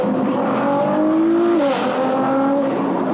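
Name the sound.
sports car engine accelerating with window down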